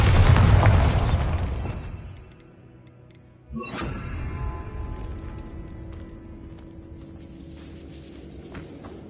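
A loud, booming blast from the Bombarda spell in the Hogwarts Legacy video game opens the clip and rumbles off. A sharp crack of falling debris follows, then a steady low hum of game ambience.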